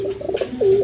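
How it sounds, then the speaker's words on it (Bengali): A pair of Giachulli pigeons kept with a newly hatched chick gives a short, close, loud burst of cooing, a rolling throaty call that swells at the end. "দর্শকবৃন্দ এখানে এক পেয়ার গিয়াচুল্লি কবুতর আছে"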